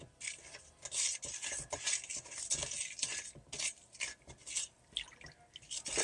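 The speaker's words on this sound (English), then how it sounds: "We're going to add those in. And we're going to mix them in thoroughly." A utensil stirs and scrapes through salt and spices in a bowl for garlic and spice bread dough, giving irregular close, soft bursts of scratching and clinking.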